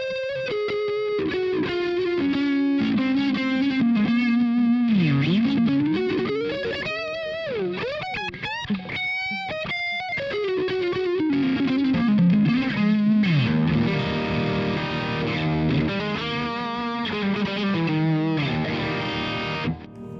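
A distorted electric guitar plays a lead line through a Friedman BE100 amp plugin on the Lead Mellow USA preset with delay, sustained bends and slides ringing out with repeating echoes, loud and alone.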